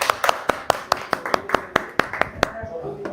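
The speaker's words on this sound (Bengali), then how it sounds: "আনলে আমরা 3 জন জোরে হাততালি দিব" Three people clap loudly together in a busy restaurant as food is brought to the table: a quick run of about a dozen sharp, evenly spaced claps, close and prominent over background chatter.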